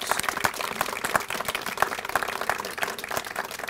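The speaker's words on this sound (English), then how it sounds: "Please give them a big round of applause" A round of applause from an audience at a county government event on transportation, moderately loud with distinct individual claps spread through a few seconds, no talk over it.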